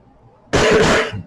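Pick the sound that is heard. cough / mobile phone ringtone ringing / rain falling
cough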